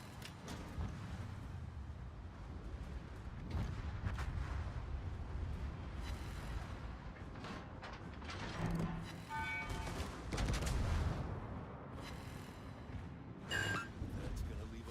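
Torpedoes striking a warship in the World of Warships video game: heavy booming explosions and rumbling impacts rise and fall amid battle noise, with someone talking over them.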